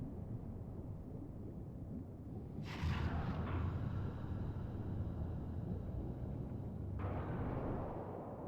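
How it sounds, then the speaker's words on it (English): A giant torpedo blast in the Ghost Trick video game, heard as a steady deep rumble that swells into a loud, broad roar around the third second and carries on, dropping back to a low rumble near the end, with no voices. "So that's the cause of that giant explosion."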